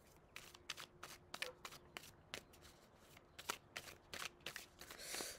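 Oracle cards are shuffled by hand for a card reading, producing quiet, rapid riffling bursts in an irregular rhythm, close by and with no talking.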